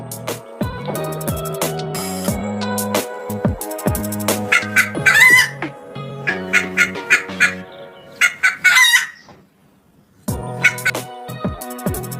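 A hen clucks repeatedly in a bright children's alphabet rhyme, with sharp clucks and squawks set against rhythmic music for several seconds, a brief pause, and then more clucking.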